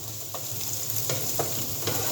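Onions frying over high heat in a pan for sweet Thai pork cubes, with a steady, close sizzle and a few light stirring scrapes and no talking.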